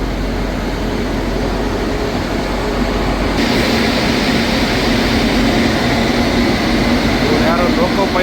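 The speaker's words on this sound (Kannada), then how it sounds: "ಇದು ನಮ್ಮ ಒಡೆಯರ್ ಎಕ್ಸ್ಪ್ರೆಸ್ ಟ್ರೈನ್ನ ಇವತ್ತಿನ ಇಂಜಿನ್ನು." The locomotive of the Wodeyar Express, a superfast train on the Mysore to Bangalore run, gives off a loud, steady engine drone and rumble that holds constant throughout.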